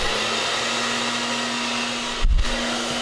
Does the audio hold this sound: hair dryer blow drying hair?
yes